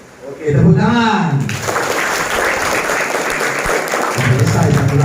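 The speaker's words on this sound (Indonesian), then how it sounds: "Oke, tepuk tangan." Applause breaks out at an Isra' Mi'raj commemoration gathering after a short recitation, a dense sustained clapping that follows spoken words and continues steadily, fairly loud, with voices mixed in.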